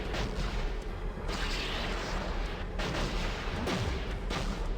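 Rockets exploding in Spyro: A Hero's Tail, a steady barrage of dull booms and blasts over continuous rumbling game noise, with no pause across the stretch.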